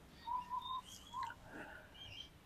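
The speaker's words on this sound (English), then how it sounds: "there are so many beautiful birds chirping around, singing around" Birds singing among trees, faint scattered whistled notes and short chirps from a distance over a quiet outdoor background.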